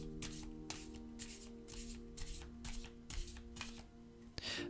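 Rhythmic papery swishes and soft slaps of tarot cards being handled and drawn one after another, close up, over a steady low hum.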